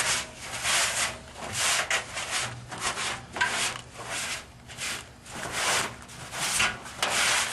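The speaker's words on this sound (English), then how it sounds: "Get a cloth, a little damp cloth, and remove as much of the rust as you can." Steady back-and-forth rubbing on rusty metal, a damp cloth scrubbing in quick repeated strokes, close and fairly loud, with no voices.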